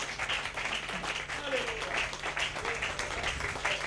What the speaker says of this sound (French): Give the Lord the clap of hands.